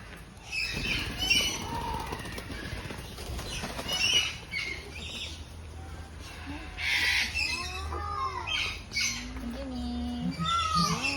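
Large crown pigeons at a zoo park give deep calls and squawks amid rustling and bird flutter, with people talking nearby.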